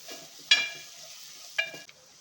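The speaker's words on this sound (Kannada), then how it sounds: "ಈಗ ಇದಕ್ಕೆ ಕೊತ್ತಂಬರಿ ಸೊಪ್ಪು ಹಾಕ್ಕೊಳ್ತಾ ಇದ್ದೀನಿ. ಇದ್ರ ಜೊತೆಗೆ ಚೆನ್ನಾಗಿ ಫ್ರೈ ಆಗುತ್ತೆ." Biryani masala with fresh coriander leaves fries in a pan as a faint, soft sizzle, broken by two sharp metallic clinks of a ladle against the vessel and a smaller tap near the end, with no speech.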